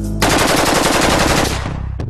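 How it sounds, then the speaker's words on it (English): A Kalashnikov rifle fires a long full-auto burst of rapid, evenly spaced, very loud shots lasting nearly two seconds, then stops. A single sharp report follows shortly after. "we're gonna do a little full auto fire"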